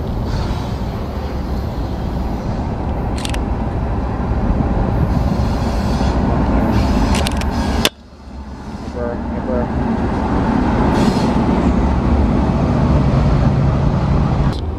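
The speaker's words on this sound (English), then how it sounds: "It's train time." A train rolls past on a rail line between Wilmerding and Latrobe, Pennsylvania, with loud continuous rumble, wheel squeal and clatter up close, a brief dip midway before the roar builds again.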